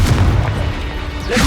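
Confringo fire spell blasting in the video game Hogwarts Legacy, a loud, deep booming explosion with rumbling low end sustained across the short moment, no voices.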